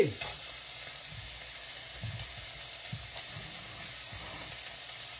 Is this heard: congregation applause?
no